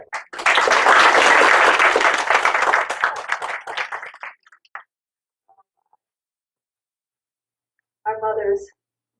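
Church congregation applauding during a service at Valley Community Church in Roanoke: a loud burst of many hands clapping that swells, then tapers off over about four seconds into silence, followed by a speaking voice.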